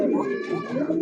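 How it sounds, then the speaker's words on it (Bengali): A big-sized Arabian coca pigeon with heavily feathered feet gives a low, continuous cooing close by, with a soft voice-like murmur running underneath. "আর কবুতরটা ভাই একদম ফুল ফ্রেশ।"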